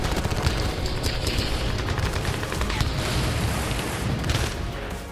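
Dense, rapid gunfire crackling almost without pause in the Russia-Ukraine war, a Ukrainian soldier firing while advancing, sharp bursts layered over each other, loud and close throughout.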